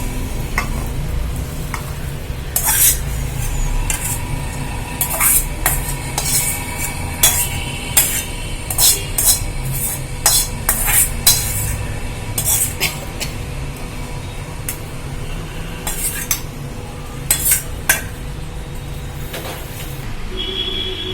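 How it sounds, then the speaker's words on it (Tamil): Cooked green mochai (field bean) sundal is scooped from a pan into a bowl, with repeated spoon scrapes, light metallic clinks and soft stirring rustles coming close and steady without speech. "இதை நம்ம கிண்ணத்துக்கு மாற்றி வச்சுக்கலாம்"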